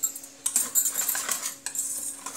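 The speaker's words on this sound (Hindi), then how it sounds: "अब इसे हम फेंट लेंगे अच्छे से।" Malpua batter with milk being whisked in a bowl: quick, continuous scraping and clinking of a utensil against the bowl, close and fairly steady, with no talking.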